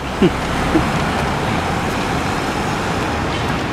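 Traffic rolls steadily through an uncontrolled town intersection where buses pass often, a constant broadband roadway roar with a brief squeak or horn-like chirp near the start.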